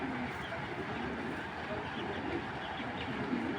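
Pigeons, including a white racer hen of Dutch bloodline, coo softly in a loft amid a dense, steady background wash of ambient noise, with low murmuring calls blending into the hiss.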